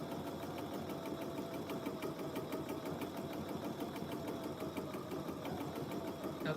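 A sewing machine runs steadily while stitching a small pocket onto a quilt, its needle chattering in a fast, even rhythm throughout, close and continuous with no talk.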